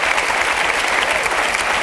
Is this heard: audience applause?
yes